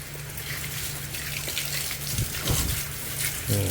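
A hose spraying water to wash a double drum filter for a pond, a steady rushing hiss with splashing bursts, close and fairly loud, no talking.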